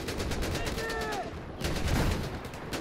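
Gunshots crackle in the video game Battlefield 4, a rapid, steady volley of automatic fire with a brief whining tone mixed in, while a voice speaks over it.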